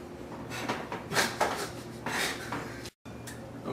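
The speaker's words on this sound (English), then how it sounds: "Okay, I got the lid off the corn." Metal pot lid lifted off a pot of freshly boiled sweet corn, a few soft clanks and scrapes of metal against metal with some light rattling, close by and fairly quiet, ending with a brief cut of silence.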